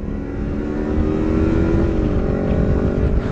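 A Kawasaki Versys 250 tourer with a 250 cc single-cylinder engine being ridden at speed, its steady engine roar and wind rush continuous and loud throughout, with no talking.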